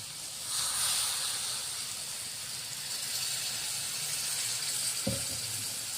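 Water is poured into a hot pan of spicy potato curry with raw-ground masala, setting off a steady close hiss and steamy sizzle that runs throughout, with a brief clunk near the end; no talking.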